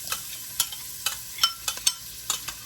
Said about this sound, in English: Add the onion and we're going to let it soften up.